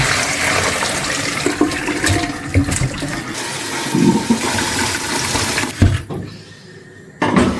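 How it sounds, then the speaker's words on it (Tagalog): Water from the first boil of meatballs for a Romanian soup pours out into a sink in a steady rushing splash, then cuts off abruptly. "itapon ni Mama yung unang tubig"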